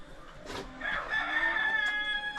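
A rooster crows once at moderate distance among chickens on a farm, the drawn-out call rising and holding, with a couple of short knocks around it.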